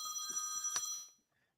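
A mobile phone rings in a short burst of bright, steady ringtone tones that cut off after about a second, heard close and clear with faint voices underneath.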